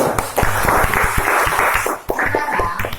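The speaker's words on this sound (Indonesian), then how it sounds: "Tepuk tangan." Classroom students clap for classmates after their presentation, a brisk burst of individual claps close by, briefly pausing midway then resuming.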